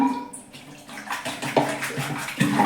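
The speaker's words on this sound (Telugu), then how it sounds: "ఈ క్యాన్ తెచ్చి దీనిలో వాటర్ నింపి సింక్ పెట్టి" Water from a can splashes into a kitchen sink, a close, steady gurgling pour with a few louder bursts near the end.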